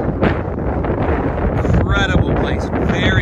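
Strong wind buffets the microphone outdoors at Head-Smashed-In Buffalo Jump on the Alberta prairie, a constant loud rumbling roar with gusts and a few faint whistling tones.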